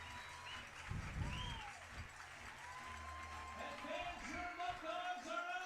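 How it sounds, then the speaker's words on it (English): Baseball crowd at a Niagara Power versus Batavia Muckdogs game erupts with applause and cheering after a bases-clearing double, a bright burst of clapping and shouts heard at a distance under a commentator talking. "this crowd is erupting here"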